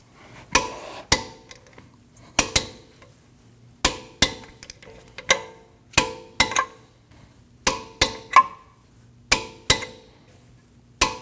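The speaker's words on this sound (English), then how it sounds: "Now you want to torque all your lug nuts at" Lug nuts on a 2012-2021 Nissan NV2500 5.6L V8 are torqued to 131 foot-pounds in a crisscross pattern, producing sharp, close metallic clicks in short irregular bursts separated by quiet pauses.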